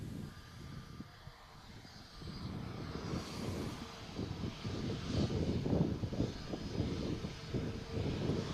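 Pegasus Airlines jet departing Manchester Airport on a flight to Antalya, its engine roar building from a low rumble into a loud, steady broadband wash that holds and swells over several seconds, with no voices.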